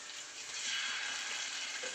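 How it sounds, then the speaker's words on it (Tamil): Six fish pieces fry in a hot pan with a soft, continuous sizzle and crackle that swells slightly partway through, fairly quiet and close with no talking. "கரெக்டாக 6 பீஸ் தான் வறுக்கிறேன்."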